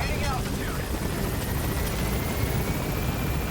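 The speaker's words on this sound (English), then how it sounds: "Now that we've loaded up an entire Soviet platoon into what is ostensibly a Black Hawk helicopter, let's get back to base" A Black Hawk-style helicopter in Metal Gear Solid V drones with a dense, steady rotor and engine roar, loud and continuous, with faint voices underneath.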